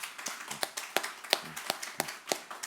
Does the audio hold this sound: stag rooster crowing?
no